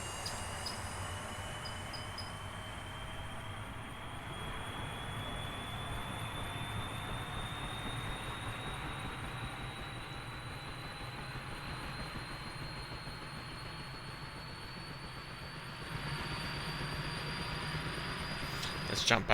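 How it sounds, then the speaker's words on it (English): In the DCS video game, an OH-58D Kiowa Warrior helicopter starts up with a steady turbine whine that rises slowly in pitch over a low rumble. The whine grows louder near the end. "Aircraft starting up."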